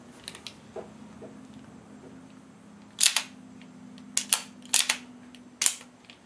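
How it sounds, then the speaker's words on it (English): Hand-cycling a SIG Scorpion 1911 pistol with its SIG magazine gives a few sharp metallic clacks and slide snaps, spaced irregularly over a low steady background hum, close and fairly crisp. "So I'm going to hand cycle this with the SIG mag and then with the Wilson mag."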